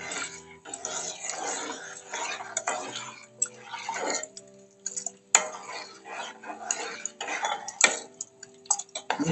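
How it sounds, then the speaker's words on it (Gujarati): A spoon stirs gram-flour kadhi in a cooking pot, with irregular scrapes and metallic clinks against the pot, close by and uneven in rhythm. "થોડી હલાવીશું જેથી કરીને ચણાનો લોટ નીચે ચોંટી ના જાય"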